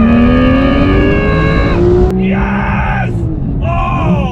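A tuned Porsche GT3 Touring pulls hard in second gear on a city street, its engine note climbing loud and close, then a quick shift and rev rises again in short bursts.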